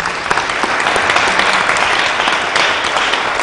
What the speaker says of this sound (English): Give the panel a round of applause.